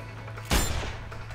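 A single sniper rifle shot in the video game Sniper Ghost Warrior 2 cracks out sharply and close, then rolls into a short decaying echo over a low steady hum.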